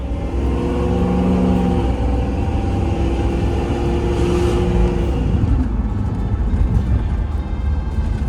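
A Land Rover Discovery engine drones steadily while the truck drives in low range along a gravel road, a loud continuous rumble with a rising whine that fades, then rough crunching road noise takes over.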